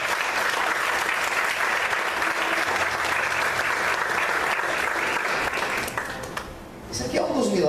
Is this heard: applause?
yes